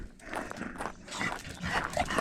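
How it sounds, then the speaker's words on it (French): A small dog, the mayor's dog out on a walk, gives a few quick, short barks close by against faint background noise. "c'est le chien du maire qui fait sa balade pour distribuer les bulletins de vote"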